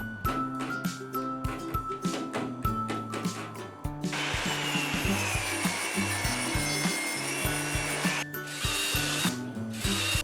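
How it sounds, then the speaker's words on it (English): A saw cuts 1x4 wood stock down to 2 inches wide, with rhythmic back-and-forth strokes that give way to a steady, noisy cut and then return to strokes, close and fairly loud. "I'm going to take some 1x4 stock and cut it down to 2 inches wide"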